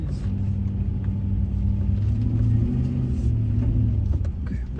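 A 2003 Chevrolet Silverado 2500 pickup pulls out of a snowy driveway without four-wheel drive, its engine giving a steady, close, loud rumble that swells slightly as it works through the snow.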